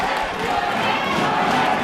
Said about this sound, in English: the crowd comes alive here at AFC